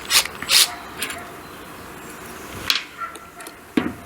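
A Makita DWR180Z 18V cordless ratchet clicks as its direction is switched, giving a few sharp, close mechanical snaps and ratcheting clicks over a hissy room background.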